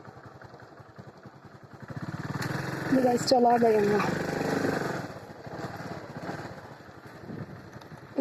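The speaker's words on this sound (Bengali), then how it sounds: "finally guys Honda bike on হয়ে গেছে" A Honda motorcycle engine running just after starting, a steady close mid-pitched putter that swells briefly as it is revved, with someone speaking over it.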